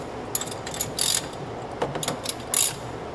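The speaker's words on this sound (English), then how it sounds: "Loosen the stock primary bolt." A ratchet with a 5/8 socket loosening the stock primary clutch bolt on a 2011 Polaris RZR, several quick clicking ratchet strokes in short bursts, close and crisp.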